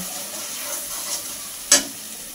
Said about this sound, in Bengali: আর দেব সামান্য জল দিয়ে আবারও কিছুক্ষণ কষিয়ে নেব